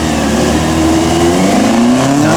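A 1993 TVR race car accelerating hard off the start line at the Loton Park hill climb, its engine note loud and close, climbing steadily in pitch through the gears.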